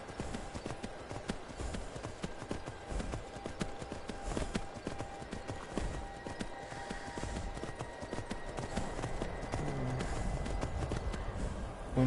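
Steady, close hoofbeats of a horse galloping in the Skyrim VR video game keep a fast rhythm throughout, with no talking.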